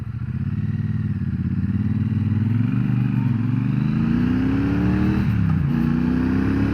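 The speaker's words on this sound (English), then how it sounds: "I am back out on the 2024 Triumph Bonneville Bobber" 2024 Triumph Bonneville Bobber motorcycle being ridden, a deep steady engine rumble with rising pitch through acceleration and a gear change, close and loud with wind noise throughout.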